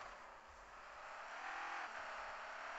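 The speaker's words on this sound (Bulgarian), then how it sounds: "Сега ще ви покажем, хора, на пистата как върви." A car of about 560 horsepower accelerates on a race track, a faint, distant rising engine whir with a broad rush of road and wind noise swelling toward the end.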